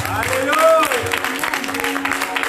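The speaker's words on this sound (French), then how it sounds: "Un applauso a Dio." A church seminar congregation claps in a short, dense burst of applause, with a voice calling out over it.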